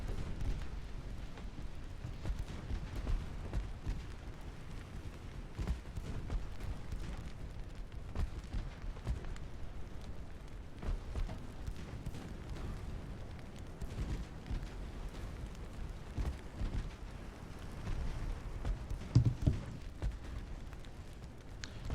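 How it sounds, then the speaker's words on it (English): Torpedo hits and naval gunfire from a sea battle between transports and torpedo boats in Ultimate Admiral: Dreadnoughts, with repeated dull booms and bursts over a continuous low rumble, one sharper blast near the end. "There's another torpedo hit."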